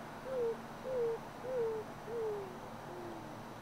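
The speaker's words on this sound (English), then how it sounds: "the roadrunner makes its more typical cooing sound." A roadrunner at Crystal Cove gives soft, low cooing calls, four evenly spaced dovelike coos about half a second apart, moderately close against a quiet background hush.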